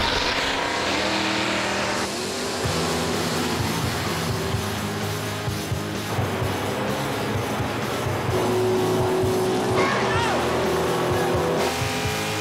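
A Mustang drag racing down the strip with drum brakes, its engine roaring loud and continuous with rising revs and tire noise, a voice talking over the din.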